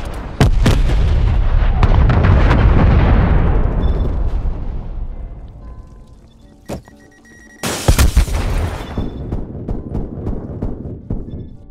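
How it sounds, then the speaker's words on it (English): Heavy artillery barrages pound in the video game Call of Duty: Black Ops Cold War, a rapid string of loud, deep booms that fade into rumbling, then a second close volley of blasts and echoing impacts. "Hostile artillery targeting active. Artillery inbound."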